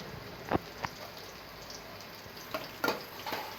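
Onions with curry leaves frying in oil in a kadai give a steady low sizzle, close by, broken by a few sharp pops and stirring clacks.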